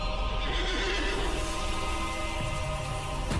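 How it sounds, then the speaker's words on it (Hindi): A horse neighs and whinnies loudly during a rearing scene in a Turkish historical drama, the call sustained over a dense, steady wash of background sound with faint hoof clatter. "देख रहा है घोड़े को कैसे उठा रहा है।"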